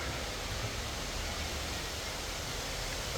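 A giant waterfall roars as a constant, dense wash of broadband noise, with no pauses or changes in level throughout.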